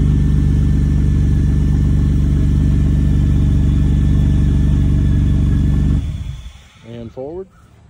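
A car engine with an exhaust fault idles loudly at a police auction with a rough, rumbling drone for several seconds, then cuts off abruptly, leaving brief voices and quieter background.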